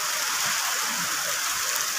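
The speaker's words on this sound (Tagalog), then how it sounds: "Umuulan." Steady rain falls without a break, a soft, even hiss of drops spread across the whole stretch, with no voices over it.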